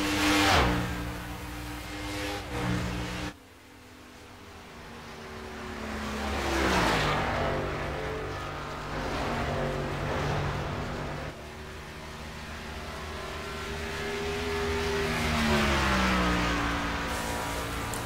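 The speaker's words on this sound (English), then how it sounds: "And James Heater will start his green flag lap here at AutoClub Speedway." Race cars in a racing video game roll through a green flag lap at AutoClub Speedway, engines droning steadily with rising and falling revs, one car's pitch sweeping as it accelerates, a continuous loud motor hum throughout.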